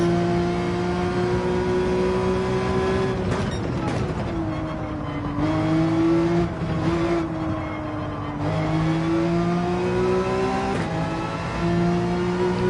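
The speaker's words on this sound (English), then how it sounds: "feel free to rev out the 911" Porsche 911 engine in Gran Turismo 7 revving steadily through a race, a loud sustained drone with repeated pitch climbs and drops as it shifts gears, heard alone.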